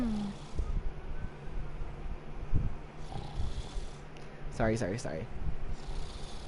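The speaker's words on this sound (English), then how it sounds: "you can hear them snoring" Sleeping characters in the video game Ni no Kuni II snore in low, rasping pulses beneath a voice that talks over most of the moment.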